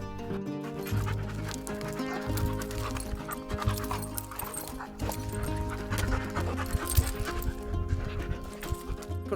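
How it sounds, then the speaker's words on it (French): Dogs playing outdoors in Tajikistan, panting and scuffling with quick, irregular patters over a constant tonal hum in the background. "Pendant que les chiens ils sont en train de s'amuser"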